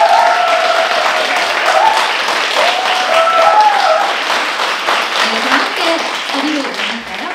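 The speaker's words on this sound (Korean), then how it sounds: "큰 박수로 맞아주세요" Audience applause welcomes a speaker onto the stage at a morning Korean traditional music concert and talk. The clapping is steady and loud throughout, with a voice heard over it.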